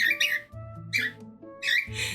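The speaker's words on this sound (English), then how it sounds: "Yes, Tomo Bird, I hear you" Pet bird squawks in three sharp, loud bursts at a steady interval, close by, with a low background hum and no talking.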